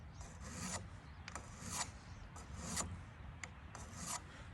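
A hand file rasps repeatedly along the bevel of steel hoof nippers, about five steady forward push strokes, each a bright scraping burst with short gaps, close and alone with no talk.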